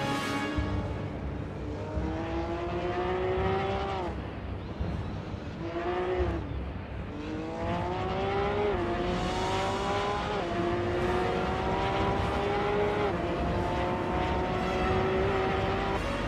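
A Porsche 911 GT3 race car engine in a racing game revs loudly and close, climbing through repeated gear upshifts with brief drops between them, sustained and continuous.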